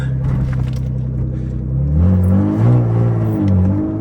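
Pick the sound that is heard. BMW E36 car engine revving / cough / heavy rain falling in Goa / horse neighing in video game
BMW E36 car engine revving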